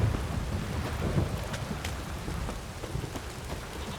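Steady heavy rain in the video game The Witcher 3: Wild Hunt hisses continuously, with a low rumbling undertone like distant thunder; no voices.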